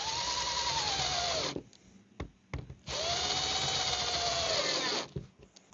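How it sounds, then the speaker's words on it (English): A power drill with a number 2 Phillips bit drives screws while installing a deadbolt in a mobile home exterior door, whirring in two sustained bursts of about a second and a half each, with brief clicks and a short rev between them. "So I've got my drill here with the number 2 Phillips."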